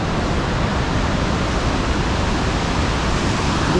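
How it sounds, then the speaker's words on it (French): Roaring waterfall heard up close, a steady dense wash of falling water holding at a constant loud level with no pauses. "Des chutes comme ça."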